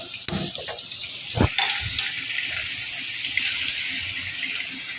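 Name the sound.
water pouring into a cooking pot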